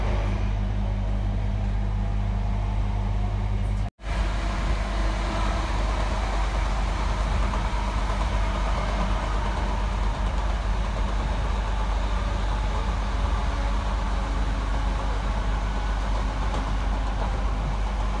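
Steady low rumble inside a West Midlands Railway train in motion near Lichfield, with constant rail and engine noise throughout and one brief dropout near the start.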